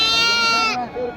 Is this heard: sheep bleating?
yes